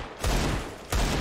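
Two quick bursts of rifle fire in a Counter-Strike match, about 0.7 seconds apart, each a loud, close, cracking volley with a short ringing tail.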